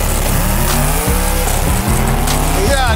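No-prep drag race between a twin-turbo Ferrari F12 and a 1400hp all-wheel-drive Mustang, a loud close roaring engine with rising gear-change sweeps and brief cuts, tire noise and crowd din throughout.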